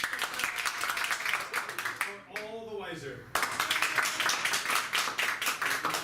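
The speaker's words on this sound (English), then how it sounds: "Literally the same amount of applause." A book club audience claps and applauds in a dense, sustained patter, breaking briefly while a person speaks, then resuming just as strongly.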